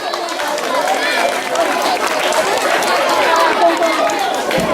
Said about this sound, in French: Donc je demande votre acclamation pour lui